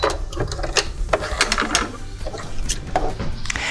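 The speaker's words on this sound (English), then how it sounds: "When you get to where you started stitching, you can stop and back stitch." A sewing machine back stitches along the hem of a fabric circle skirt. It makes a close, loud burst of fast, rattling needle strokes with short mechanical clicks from the reverse action.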